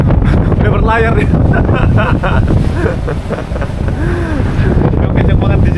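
Strong wind roars and buffets across the microphone on open water, with a sailboat moving through it under sail and people talking now and then.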